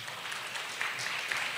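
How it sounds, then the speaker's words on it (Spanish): A church congregation claps for the Lord during a sermon, a soft, even wash of many hands heard from a distance, steady and unbroken. "Y dele fuerte el aplauso al Señor."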